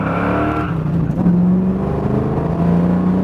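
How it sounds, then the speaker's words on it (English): A 1967 Ford Mustang Fastback GT500 tribute accelerates hard through a couple of gears, its loud engine note rising in pitch with each gear and dropping briefly at the shifts. "we're gonna step on it here, get through a couple gears"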